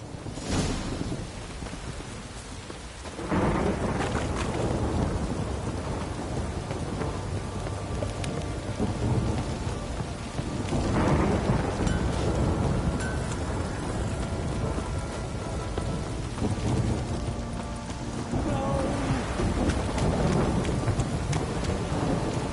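A heavy downpour with rolling thunder in The Witcher 3, a dense steady roar of rain on surfaces broken by deep thunder swells and rumbles that rise and fade over the stretch.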